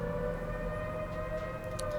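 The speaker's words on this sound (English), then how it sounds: "you can hear the air raid siren this town still has from World War II" A World War II–era air raid siren still kept in a town, sounding its noon signal as a steady, sustained wail with strong tonal bands, continuous and fairly distant-sounding across the whole stretch, no talk over it.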